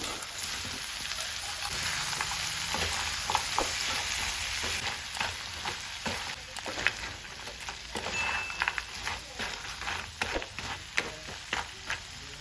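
Cleaned crab with salt and turmeric frying in a pan for crab pepper fry, a steady hiss of sizzling oil broken by frequent clacking stirs, near and moderately quiet with a faint high whine behind it.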